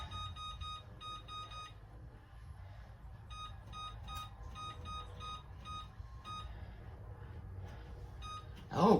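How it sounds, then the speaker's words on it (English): Oven timer giving a series of short, high electronic beeps in quick clusters as it is set, fairly clear over a quiet kitchen background, with a brief louder noise at the very end. "we'll set the timer for 20 minutes"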